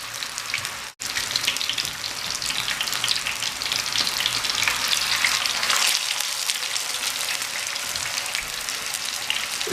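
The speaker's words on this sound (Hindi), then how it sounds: "इसी तरह हम इसको 2 से 3 मिनट के लिए एक तरफ से फ्राई होने देंगे।" A potato chapli kabab frying on low heat in a pan makes a steady, close crackling sizzle throughout, with one brief dropout near the start and no talking.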